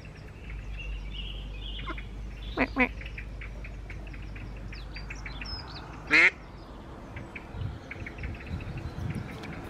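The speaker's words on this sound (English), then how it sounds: "A very excited Mama duck." An excited mother duck quacks outdoors in a few short bursts, one loud nearby call standing out, with insects chirring and soft background ambience throughout.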